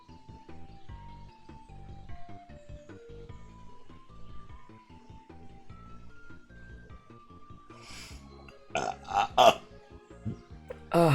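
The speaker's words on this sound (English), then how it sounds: "Oh, that was a wet burp." A single wet burp rises near the end after a long stretch of soft melodic background music, with a couple of loud gurgling bursts breaking over the music toward the close.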